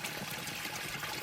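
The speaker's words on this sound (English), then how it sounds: "So I'm going to stick my water bottle in there." Continuous rushing trickle of cold woodland water flowing into a water bottle at a natural source, steady and fairly close.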